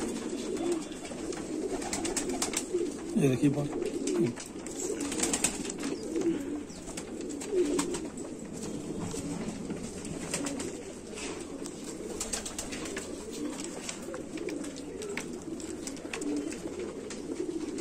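Sheikho pigeons coo softly in a loft, a low continuous murmur of many birds with occasional wing flutters, while someone speaks briefly.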